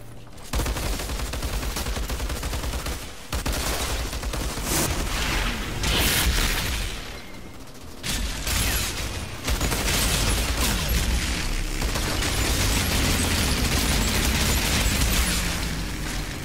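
Gunfire in the shooter game Outriders, with repeated bursts of rapid automatic shots and booming impacts that come in waves over several seconds, broken by brief lulls, loud and close.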